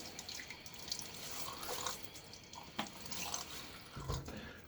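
Water splashes onto a face before shaving, heard as soft, close trickling and dripping over a steady faint tap or sink hiss, with a few brief louder splashes.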